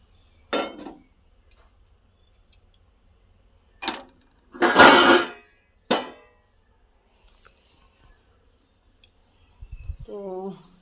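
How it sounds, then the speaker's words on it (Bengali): Freshly brewed tea strained into a cup: a few sharp metallic clinks and short splashy pouring bursts, the longest around the middle. Quiet gaps separate them, and a brief voice sounds at the end. "এই দেখো আমি কিন্তু এখন চা ছাকবো।"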